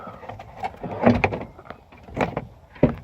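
A plastic door card is worked loose from a Nissan Micra K11 door, with close scraping, creaking and a few sharp plastic clicks and pops as it is wiggled free.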